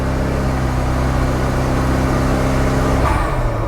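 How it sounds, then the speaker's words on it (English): Vector W8 sports car engine revving loudly under acceleration, a steady deep drone with layered harmonics that shifts in pitch near the end, close and continuous with no talk. "I'm giving it some gas here."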